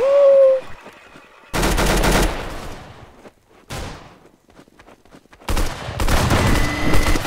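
Bursts of rapid gunfire in the Roblox game Arsenal come in three loud, close volleys separated by near silence, with a brief tone at the start and a single sharp shot between the volleys.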